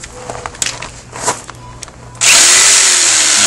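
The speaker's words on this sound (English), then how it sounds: "You can use pretty big saw teeth on that to cut any plastic." A reciprocating saw starts cutting plastic mobile home skirting after a few scattered clicks and handling noises, then a loud, sudden, harsh buzzing roar that continues to the end.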